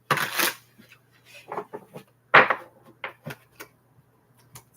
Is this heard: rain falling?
no